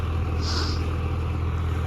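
A tractor works a wheat field during wheat sowing, its engine a steady, close, low rumbling drone that holds unchanged throughout with no voices.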